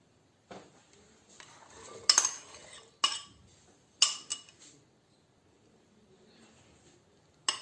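Chopped apple pieces tipped into a bowl for fruit chaat, heard as a few close clinks and clatters of spoon and dish spread over several seconds with quiet gaps.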